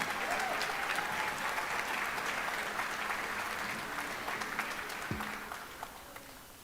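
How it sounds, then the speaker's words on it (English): Sustained applause from a concert audience at a pops concert, honoring the soloists and drummer; dense, steady clapping that thins and fades toward the end. "Another round of applause for our soloists"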